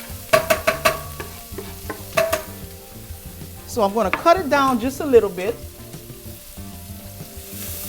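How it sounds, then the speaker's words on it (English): Catfish sautéing in an oiled pan, with crackling sizzle and bursts of spattering, plus a few sharp utensil clinks against the pan, heard close up while someone speaks briefly. "Oh, you hear that sizzle?"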